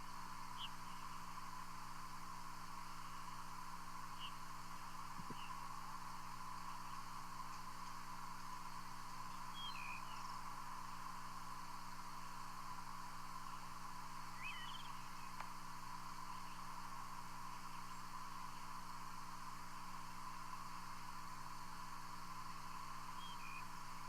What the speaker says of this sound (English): is this a bird singing his song in flight